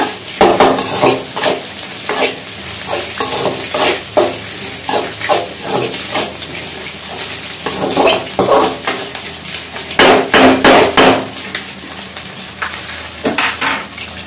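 Spicy egg masala is stir-fried in a pan, with a steady sizzle under repeated metallic scrapes and clanks of a spatula against the pan, coming in irregular bursts throughout and loud and close.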